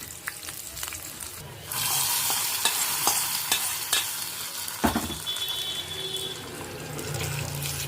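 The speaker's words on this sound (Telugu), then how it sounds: "ఈ తిరగతని పప్పులోకి వేసుకుందాము." Garlic, green chilli and curry leaf tempering sizzles loudly as it is poured into mango dal, a steady hot crackle with a sharp burst midway and stirring clatter throughout.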